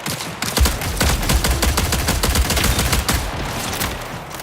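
Rapid bursts of automatic gunfire in the sci-fi shooter Marathon crackle nonstop and loud, shot after shot overlapping in a dense, continuous barrage.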